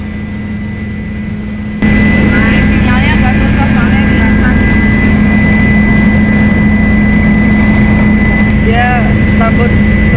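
A helicopter engine on a flight to a singing show starts after a short quiet opening and then drones loudly and steadily, close up, with faint voices underneath.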